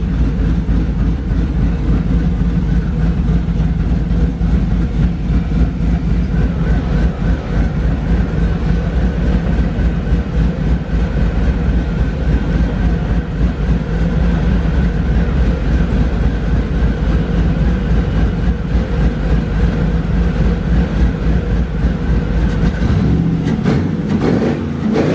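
A bagged Chevrolet C10 truck's engine warms up with a loud, rattly, low rumble that drones steadily and close for the whole stretch, changing slightly near the end.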